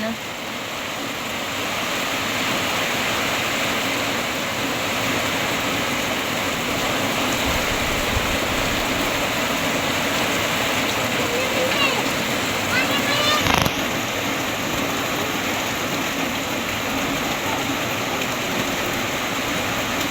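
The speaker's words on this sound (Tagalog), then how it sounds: "Ayan po at nabuhos na po ang ulan." Heavy typhoon rain pours down outside a home shop with a dense, loud, continuous hiss and splatter, and there is a brief sharp knock partway through.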